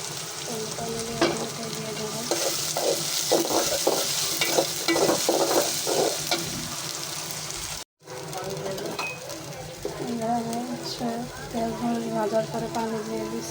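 Ginger garlic paste sizzling in a hot pan while being stirred, steady frying hiss with rhythmic scraping strokes, a brief cut partway through, and someone talking over it.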